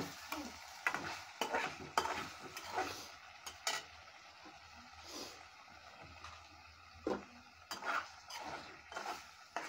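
Shing catfish and tomato cook down in oil in a pot. A quiet sizzle runs beneath repeated scraping and stirring of a spatula against the pan, with occasional metallic clinks.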